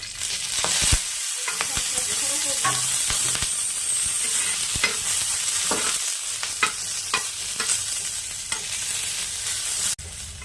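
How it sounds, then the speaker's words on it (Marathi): Green chillies roast in oil in a pan over a medium gas flame, giving a steady close sizzle with occasional stirring scrapes and a sharp knock near the end, with no voices. "आपण ह्यांना तेलात भाजून घेणार आहोत मीडियम गॅसवरती"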